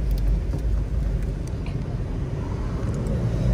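A car drives past on Rodeo Drive in Beverly Hills at twilight, a steady close engine and tyre rumble with road noise holding throughout, alone without talk.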